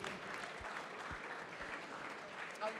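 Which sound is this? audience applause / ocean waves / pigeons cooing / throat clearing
audience applause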